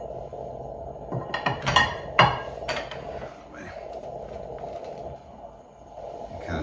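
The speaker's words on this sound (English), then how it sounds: "we'll go ahead and cut it in half. It's nice and crispy." A knife cuts a crispy toasted sub sandwich in half on a board, giving a short cluster of crunchy cracks and clinks close up. Faint, quieter handling follows.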